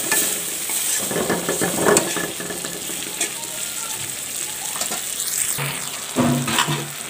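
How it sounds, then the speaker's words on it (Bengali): Tomatoes stir-fried in a pan with a splash of water for a pangas fish and cauliflower curry: a steady close sizzle runs throughout, punctuated by irregular spatula scrapes and stirring knocks, with no voices. "টমেটোগুলো ভালো করে আমি কষিয়ে নেব।"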